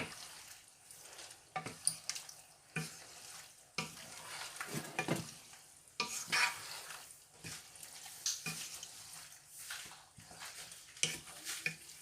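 Macaroni with salt cod is stirred in a pot, with a spoon scraping and knocking in irregular strokes over a soft, low sizzle, close and fairly quiet.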